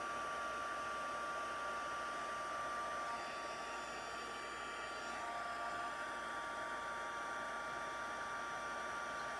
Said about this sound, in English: Now, you want to use your heat gun.